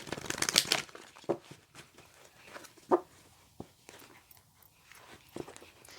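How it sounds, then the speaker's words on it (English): An oracle card deck is shuffled close up in quiet surroundings, a sharp riffle burst at the start followed by scattered soft slides and taps of cards. "as I'm shuffling the deck"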